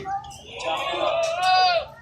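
A white goat at a Pakistani livestock market before Eid gives a drawn-out, wavering bleat, loud and close, with market chatter around it.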